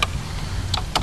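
Keys pressed on a 1982 home computer keyboard, a couple of brief clicky taps standing out over a low steady hum, close and fairly quiet.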